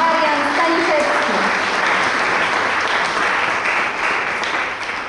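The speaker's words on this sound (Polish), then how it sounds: "Jeszcze raz gromkie brawa, drodzy Państwo, Marian Staniszewski." Hearty applause from a seated audience at the Magnolia 2017 awards ceremony for a laureate, a thick, even roar of clapping close and loud, tapering slightly at the end, with a few voices beneath it.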